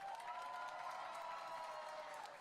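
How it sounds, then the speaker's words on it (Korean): Applause and cheering from a crowd at a Lee Jae-myung presidential campaign rally in Cheonan, South Korea, a faint, steady wash of distant clapping with a sustained tonal hum throughout. "박수 한번 다시 부탁드리겠습니다"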